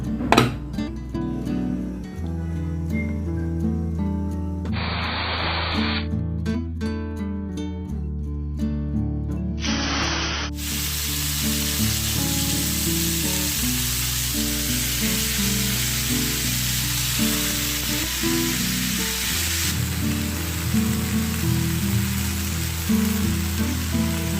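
Fish fries in a pan with a steady hiss of hot oil that grows broader partway through, partly masked by continuous background music.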